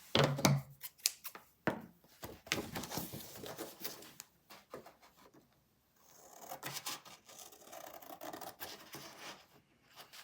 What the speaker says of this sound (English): you just start cutting along this edge and down